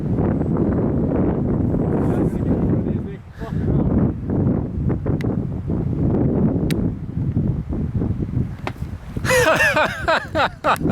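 Strong wind buffets the microphone steadily during a stabilizer test flight of an Ardupilot 2.5 drone, a constant loud rumble with brief lulls and a brighter rush near the end.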